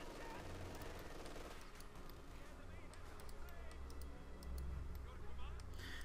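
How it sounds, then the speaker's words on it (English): Rifle fire from German grenadiers in the Company of Heroes 2 strategy game, a steady stream of clicking shots under a continuous low battle rumble and a commentator's voice. "Grenadiers firing away at them"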